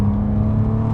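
A 2007 Porsche Cayman 2.7 engine revs hard toward 6,000 rpm, a steady, loud, close mechanical drone with a strong tonal hum and no talking.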